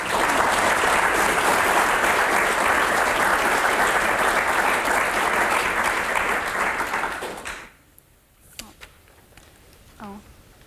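A conference audience at a talk on Māori architecture and urbanism applauds steadily and loudly for about seven seconds, then the clapping fades out. A few faint sounds follow and a speaker's voice begins near the end.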